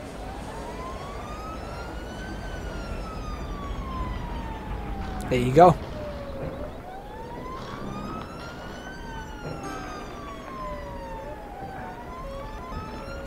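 A police van siren in the snowy city-building game Cities Skylines wails up and down in a slow continuous rising and falling sweep, steady and moderately loud, while someone speaks briefly over it.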